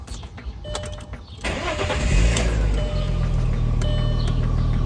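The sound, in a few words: Audi car engine starting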